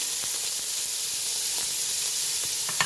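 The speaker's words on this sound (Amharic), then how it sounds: "አሁን እዚህ ጋር ዘይቴን አሞቃለሁ ውድ ጓደኞቼ። ሽንኩርቱን እጨምራለሁ ማለት ነው።" Onions dropped into hot oil for Ethiopian-style mandi rice give a steady, even sizzle and hiss, close and moderately loud, with faint crackles and pops scattered through it and no talking.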